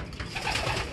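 Racing pigeons cooing at a 50 km toss release, a brief soft burble of coos amid outdoor noise.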